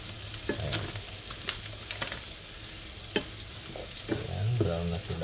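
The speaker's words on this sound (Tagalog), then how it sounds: "Hintayin lang rin natin maluto ang sibuyas para mabango" Onions and garlic fry in a pan with a steady sizzle, punctuated by several sharp utensil scrapes and clinks as they are stirred; the sizzle swells louder toward the end.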